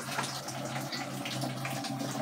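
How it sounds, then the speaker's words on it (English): Drain water gushes steadily from the outlet pipe of a semi-automatic washing machine, a continuous close rushing splash with no voices over it. "for the drainage, this is my pipe. I've just connected it there. You can see the water is coming out."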